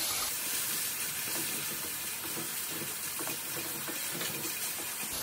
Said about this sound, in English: My onions are frying. The dal is boiling over there.